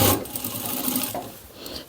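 A sewing machine runs steadily, stitching bias binding around the edge of a fabric pocket on a cloth tote bag, a close, continuous mechanical whir with no voices.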